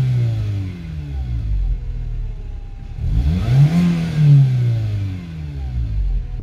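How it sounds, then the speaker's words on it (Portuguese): A Renault Clio with a D4D engine, serviced for loss of acceleration, idles steadily, then revs up in one rising and falling burst before settling back to idle, close and alone. "Vou dar uma acelerada aqui pra vocês verem como que ficou."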